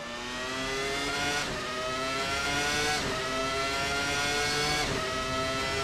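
A Williams FW19 Formula 1 car engine in Assetto Corsa revs hard and climbs through the gears in repeated rising sweeps, loud and sustained with short dips at each shift, and no talking.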